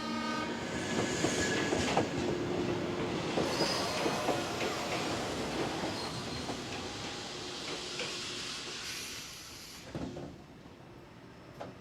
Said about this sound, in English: the 5:30 train to Kagoda has now arrived